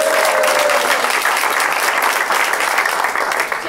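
Dense, steady applause from a comedy-show audience fills the whole stretch at close range, a broad wash of many hands with a brief tonal whistle or voice near the start.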